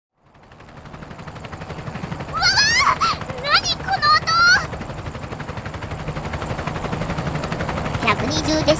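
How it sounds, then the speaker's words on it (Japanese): A helicopter rotor in the video game Project Sekai, during an island story scene, swells into a steady loud rumble, with brief high chirpy voice-like sounds briefly over it and speech present. "本物のヘリコプターの音だね。"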